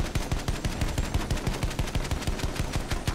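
Rapid machine gun fire from a Battlefield 1 battle, a fast, steady burst of closely spaced loud shots lasting about three seconds with no talking.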